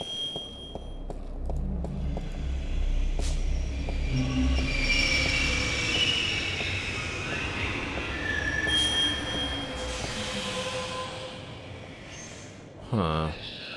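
A train in the adventure video game The Longest Journey rumbles and squeals along the rails, with steady low rolling and high metallic screeching throughout and a brief clatter near the end, no talk over it.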